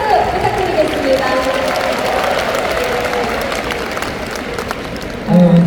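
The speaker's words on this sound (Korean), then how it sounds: "공연팀의 큰 박수 부탁드리겠습니다." Audience applause for a performance team at a church denomination's 45th anniversary celebration service; steady, dense crowd clapping fills the whole stretch with some voices mixed in, swelling slightly near the end.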